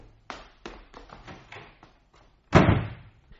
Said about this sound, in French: Il sauta sur la porte, la claqua derrière lui et dévala l'escalier à toute vitesse